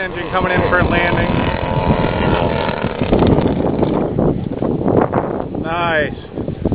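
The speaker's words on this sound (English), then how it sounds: "Twin engine coming in for a landing." A twin-engine RC warbird airplane comes in to land at an air show, its engine drone rising and falling under wind noise while a voice talks loudly over it.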